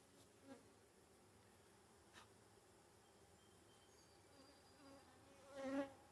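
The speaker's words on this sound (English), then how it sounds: "Okay, get the other bee off." Faint buzzing of honeybees around an open hive during a queenless check, a soft steady insect drone with a few closer buzzes passing by, the loudest near the end.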